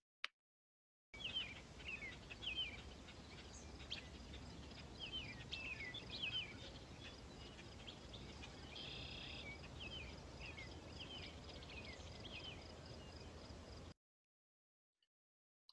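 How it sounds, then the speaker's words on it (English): Birds chirp and sing repeatedly over a steady insect-like buzz outdoors, with bright, overlapping calls continuing throughout at moderate distance. "Could you hear the birds sing?"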